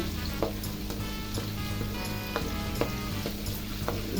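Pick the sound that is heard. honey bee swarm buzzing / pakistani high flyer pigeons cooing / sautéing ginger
sautéing ginger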